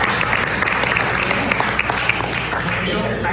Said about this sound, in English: Actually, you shouldn't applaud to that anymore